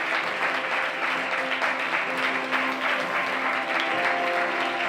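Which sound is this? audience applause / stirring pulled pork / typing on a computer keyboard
audience applause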